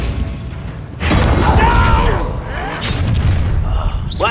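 A Confringo blasting spell erupts in a video game fight, a sudden loud boom about a second in that rumbles and crackles for over a second, followed by a second burst and whooshing debris, with talk mixed in.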